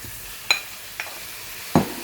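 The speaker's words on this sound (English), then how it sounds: "so I'm going to jam my mince in now" Minced meat browning in a hot pan over high heat alongside onions, a soft steady sizzle broken by three sharp scraping stirs of a utensil against the pan, heard close with no talking.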